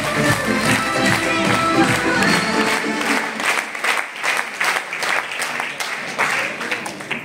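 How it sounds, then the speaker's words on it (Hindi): A seminar audience in Faridabad breaks into loud, sustained clapping of welcome, with music fading out after a couple of seconds and dense applause continuing alone to the end. "स्वागत के लिए मैं एक बार जोरदार ताली आपसे बजाना चाहता हूँ।"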